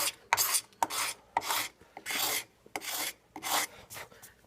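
Kitchen knife scraping old finish off a wooden gun stock, a series of about eight dry raspy strokes in steady rhythm, close and moderately loud with no talking.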